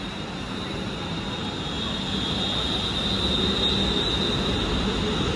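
London Northwestern Railway four-coach train pulling out of Stoke-on-Trent toward Stafford, a steady broad rumble of rolling stock and motors building slightly in loudness, with a constant high whine running through it.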